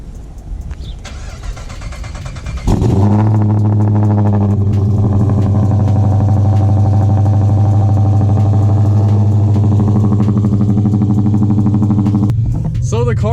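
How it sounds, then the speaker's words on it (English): A cammed Dodge Charger R/T running on E85 cold-starts with a brief crank, then catches into a loud, lumpy, rumbling idle that holds steady for about ten seconds before cutting out. "So today I'm going to fire it up from a cold start."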